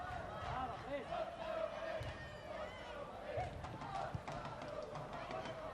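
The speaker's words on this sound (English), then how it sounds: "You can hear it in the crowd when she gets the ball at her feet." Crowd noise at a women's football pre-season friendly between Chelsea Women and AS Roma, a steady murmur with faint rises of cheering, sitting under continuous commentary.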